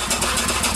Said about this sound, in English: so you're hearing the belt hit each other